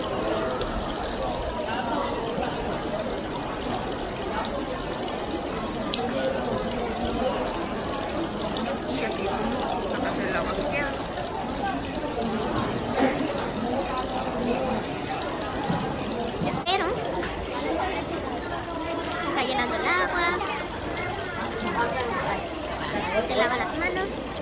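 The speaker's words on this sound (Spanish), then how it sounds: "Lavas tus manos primero." Water pours and splashes steadily at a temple water basin in Tokyo as hands are rinsed, a continuous close trickle under voices talking nearby.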